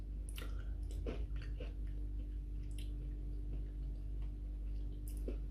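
Someone chews a bite of Irish apple cheesecake with a crunchy shortcrust pastry, making close, quiet crunches and several sharp snaps over a low steady background, with no talking.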